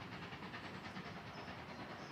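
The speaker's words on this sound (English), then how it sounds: "there's a train passing through Stogumber, a rare sight that only happens" A diesel train rolls through Stogumber station on the West Somerset Railway during a diesel gala, a steady close rumble with hiss and faint rail clatter filling the whole moment, no voices.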